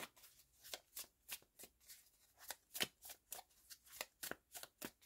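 Tarot cards shuffled in rapid, repeated riffles, a steady run of about a dozen crisp, papery bursts close up and fairly quiet, with no talking.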